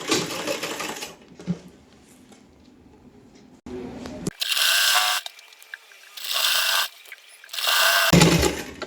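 A sewing machine stitches an A-line suit seam in three loud, close bursts of rapid whirring in the second half, after a quieter stretch of fabric handling and low background sound.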